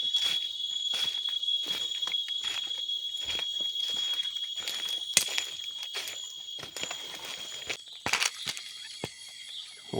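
Insects call at dusk in the Kalimantan forest interior, a steady high-pitched shrill drone with a repeated sharp chirp layered over it, while scattered footstep-like crunches and rustles sound nearby.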